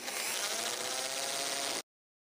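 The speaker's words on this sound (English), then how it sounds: "Using the guide marks, drill through the next 3 holes." Power drill boring through guide holes in a metal blade and wooden dowel for a homemade broadsword, a steady continuous whine lasting under two seconds before cutting off abruptly, close and fairly loud with no talking.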